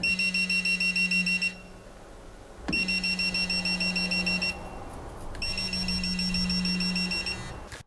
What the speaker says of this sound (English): When touching a phase conductor, the device lights up, beeps and vibrates.